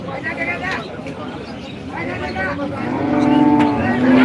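A cow at a busy cattle market lets out a low, drawn-out moo toward the end, rising over steady crowd babble and nearby talking.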